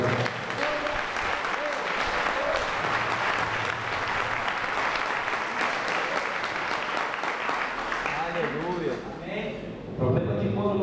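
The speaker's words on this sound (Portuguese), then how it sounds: "dê uma salva de palmas a Jesus" A church congregation claps loudly and continuously during a sermon, a dense sustained wave of applause that thins near the end as a voice comes in.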